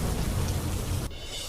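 Torrential rain lashes down in a stormy downpour over Vyara, Tapi, with a low thundery rumble and gusting wind, loud and constant until it suddenly drops to a softer hiss.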